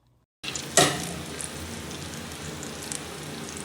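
Shrimp hitting hot oil with onion and ginger-garlic paste, a sharp splash of sizzle after a brief silence, then a steady, close frying hiss that continues to the end.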